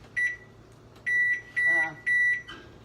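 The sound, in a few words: kitchen timer being set, beeping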